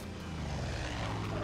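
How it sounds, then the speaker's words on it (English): A propeller plane in the video game Far Cry 5 sends out a loud, continuous engine drone that swells slightly across the short span. "Shoot the plane."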